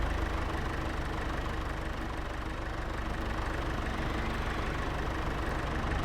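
Tractor engine idling in the Farming Simulator 22 game, a steady, even mid-to-low mechanical drone that holds constant and fairly loud throughout with no speech over it.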